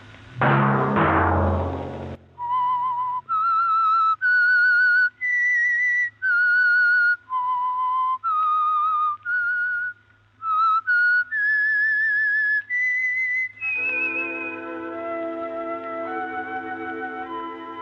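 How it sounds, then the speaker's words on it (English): A lone whistler carries the signature tune of The Whistler radio show, a slow, eerie melody of sustained whistled notes at close range, after a brief burst of sound and ending over a held orchestral chord. "Let that whistle be your signal for the Whistler, each Sunday night at this same time."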